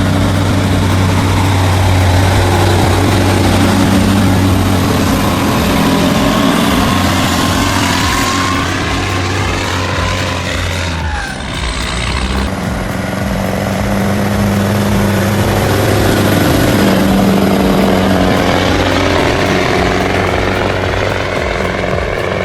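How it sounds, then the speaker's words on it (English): A heavy off-road tractor truck climbs a steep, slippery slope, its engine roaring loud and low without a break, the pitch wavering as the load and revs shift, with no speech. "The engine roared like an epic, the surging power pushing the heavy tractor up the slope bit by bit."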